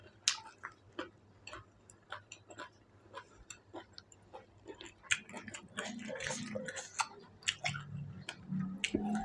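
Someone chews crispy fried squid close up, with rapid crunchy bites repeating in an uneven rhythm and growing denser and louder toward the end.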